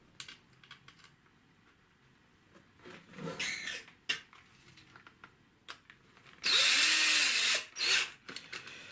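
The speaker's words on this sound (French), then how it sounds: "ça fait tellement du bien d'avoir une visseuse" An electric screwdriver drives screws into the electronics box of an Arrma Kraton 8S EXB RC car: short scattered clicks and handling noises, then a strong whirring run of about a second and a brief second burst, close by.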